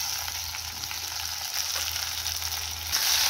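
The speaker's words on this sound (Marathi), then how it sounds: "छान टमाटर आणि कांदा परतलेला आहे" Tomato and onion sauté in a pan with a steady, close sizzle, broad hiss and faint stirring scrapes throughout the short stretch, swelling slightly louder near the end, with no talk.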